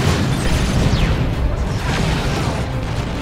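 A Storm Eagle strike in Dawn of War 2 lands as a dense, loud wash of explosive rumble and crackle, sustained blasts with sweeping whooshes layered through continuous battle noise.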